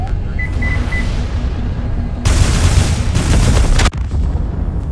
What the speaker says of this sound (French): J'ai pris l'explosion en pleine gueule.